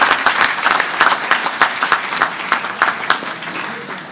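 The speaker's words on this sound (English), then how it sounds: "May I request at this juncture, ladies and gentlemen, a resounding applause for the planning committee" Resounding applause from the audience at a civil service awards ceremony, honouring the planning committee: dense, sustained clapping from a large crowd with scattered louder claps, steady throughout.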